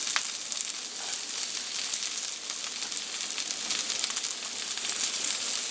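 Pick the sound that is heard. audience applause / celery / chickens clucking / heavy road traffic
celery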